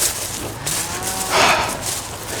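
A group of heifers and dry cows being moved before a storm lets out a loud, drawn-out moo midway. The call rises over a steady outdoor rush of wind and background noise.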